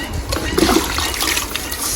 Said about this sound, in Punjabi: ਕੱਪ ਭਰ ਕੇ ਪਾਣੀ ਮਾਰ